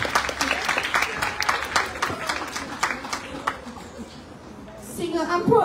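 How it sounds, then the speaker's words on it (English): Audience applause at a national schools arts festival theatre event, a dense patter of clapping that starts strong and thins out, with a voice speaking toward the end. "Please give him a round of applause"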